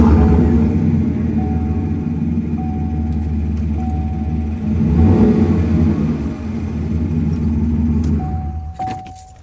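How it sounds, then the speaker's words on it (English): A pickup truck's exhaust rumbles loudly and close, a deep steady idle swelling into a heavier rev in the middle and settling back, with a faint whine riding on top and a clatter near the end. "let y'all hear the exhaust. It's pretty cool sounding"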